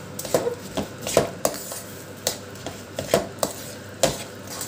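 Roasted peanuts and dalia being stirred together in a metal pan for sesame laddoos, giving a string of sharp scraping clinks at an irregular rhythm, fairly close and moderately loud with no talking.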